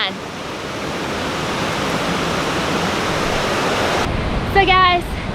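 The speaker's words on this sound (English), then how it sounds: "we get to walk by the waterfall" The El Chiflón waterfall in Chiapas, Mexico, gives a loud, steady, even roar that fills the scene, with a voice heard briefly over it near the end.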